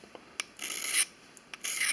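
A fine pumice stone rasps along a scissor blade as it is sharpened, with two longer gritty strokes and a few brief scrapes, close and fairly loud with no talking.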